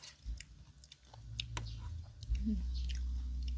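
Close, soft crunching of someone chewing blanched, chilled enoki and king oyster mushrooms in a spicy Isan-style mushroom salad. Faint clicks sit over a low steady hum.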